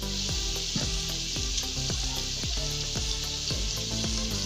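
Chicken fries in a pan for a white chickpea and chicken curry, a continuous loud sizzle and crackle with rhythmic scraping strokes as the pieces are stirred, close and without talk.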